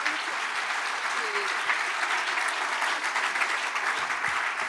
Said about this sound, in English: Michaela and Ali, a big round of applause, please.